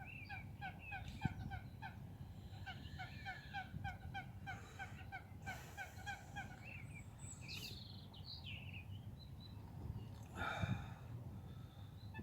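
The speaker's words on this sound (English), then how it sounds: "Birds are going crazy this morning." Many birds call loudly at once on a morning at a fishing spot, a dense chorus of repeated honking and gobbling fowl-like calls over a steady low background rumble, with a louder burst near the end.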